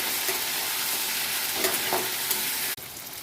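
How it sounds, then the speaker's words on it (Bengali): Taro and potatoes fry with turmeric in a pan, a steady loud sizzle with scraping stirring strokes throughout, cut off abruptly near the end. "ভালো করে কচুর সাথে আলুটাকে ভালো করে নাড়িয়ে আরও কিছুক্ষণ ভাজা ভাজা আমি করে নেব।"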